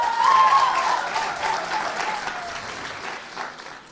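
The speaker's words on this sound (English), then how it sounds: "you can do better than that on applause." Audience applause at a startup cohort demo day, a burst of clapping that starts strong and slowly thins out over a few seconds, with no speech over it.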